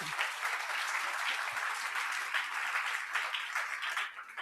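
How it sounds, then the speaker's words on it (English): An audience at an awards gala for game developers applauds, a dense, steady round of clapping from a crowd that holds even for a few seconds and then starts to fade at the end. "let's give them a round of applause as well."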